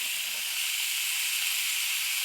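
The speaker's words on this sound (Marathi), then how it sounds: "मसाल्यात मस्त असं भाजायचं बघा गवार सुद्धा" Cluster beans (gavar) roasting in spice masala in a pan, a loud steady close-up hiss and sizzle that runs on unbroken, no voices.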